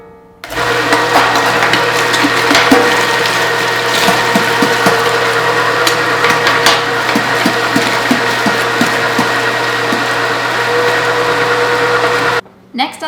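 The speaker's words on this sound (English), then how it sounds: "We're gonna keep the carrots whole and simply put them into the grinder." An Italian Fabio Leonardi MR9 electric meat grinder pushing whole washed, peeled carrots through, a steady loud motor hum with irregular crunching and grinding bursts throughout, ending abruptly with a brief click.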